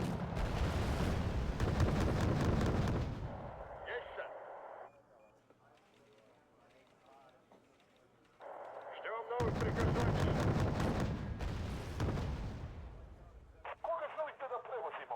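Heavy mortar artillery fire in a war video game, booming blasts with rumbling tails in two loud bursts separated by a quieter stretch of distant battlefield noise, with radio-like chatter in the background.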